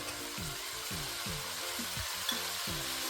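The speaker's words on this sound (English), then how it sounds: "If the pan stops sizzling, turn the heat up a bit to medium-low or medium." Pickled chili stir-fried in a hot pan, giving a steady close sizzle throughout with repeated scraping stirs at a regular rhythm, alone with no talk.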